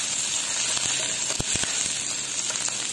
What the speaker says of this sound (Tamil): நல்ல வதக்கிடணும். கருவேப்பிலையும் போட்டுக்கிட்டேன்.